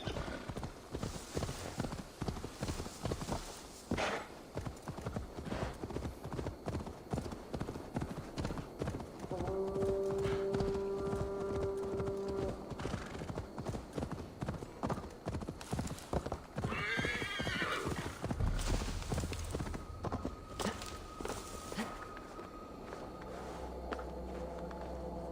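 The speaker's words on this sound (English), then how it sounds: "Alright, let me get my horse together." Horse hooves in Assassin's Creed Valhalla beat a rapid, steady clip-clop for most of the stretch, with a whinny partway through and the hoofbeats slowing near the end under game ambience.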